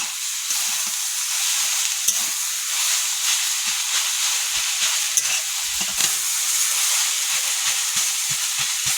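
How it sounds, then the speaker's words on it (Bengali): Greens with water, salt and turmeric sizzle and hiss in a pan while being stirred, a continuous bright frying hiss broken by light scraping ticks from a spatula, close with no voices. "একটু জল দেবো, লবণ, হলুদ দেবো, নাড়াচাড়া করবো"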